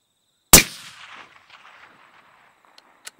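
A competition rifle fired at a long-range target about 860 metres away: one sharp, loud crack followed by a rolling echo that fades over two seconds, then a couple of faint clicks.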